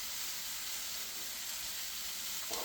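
Peppers and onions sizzle steadily in a pan at a hunting camp cook, a continuous bright frying hiss close by with no talk.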